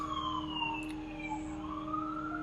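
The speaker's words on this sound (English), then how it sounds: "You can also hear the cops in the background." Police siren wailing in the background, a steady rising and falling tone held at moderate distance throughout, faint and continuous with no one talking.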